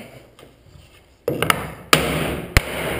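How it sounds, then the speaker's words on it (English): A block of wood taps underneath the rail of an armoire, giving three sharp knocks close by with ringing resonance over a low room hum. "we can tap underneath on the rail"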